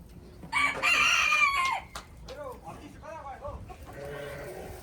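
Chickens cluck and a rooster crows loudly at a farm that also keeps sheep, a long crow followed by a run of short clucks and calls, with a quieter voice talking near the end.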